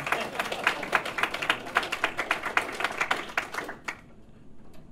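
Audience applause at a retrocomputing conference talk, a crowd clapping in quick uneven bursts for about four seconds before it stops abruptly, leaving near silence.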